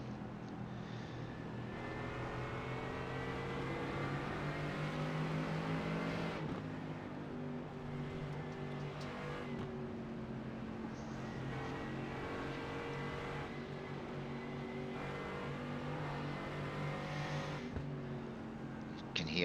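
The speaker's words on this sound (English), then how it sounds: "Owen just feathering the throttle as he makes his way through this twisty bit of the Suzuka circuit" Mercedes GT4 race car engine in a racing game at Suzuka, a sustained droning whine with the pitch rising and falling as the throttle is eased through twisty corners, steady and moderately loud, alone.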